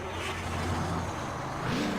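Kenworth 521 truck with a two-stroke engine and 18-speed twin-stick transmission in American Truck Simulator, a steady low diesel drone running continuously at moderate level, with a brief rise in pitch near the end.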